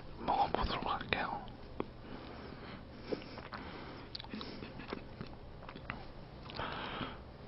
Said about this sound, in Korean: 오렌지 먹어보도록 할게요.